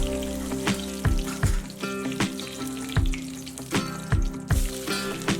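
Three bay leaves hit hot mustard oil in an iron kadai and sizzle steadily, a close, bright frying hiss with small pops and scattered crackles, no voices over it.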